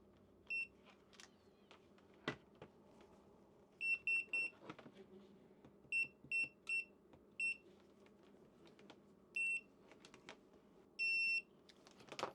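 A multimeter gives short, high continuity beeps while wires are checked before soldering: a dozen or so faint, evenly pitched bleeps in irregular clusters over a quiet room.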